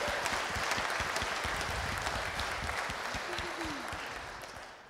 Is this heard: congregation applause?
yes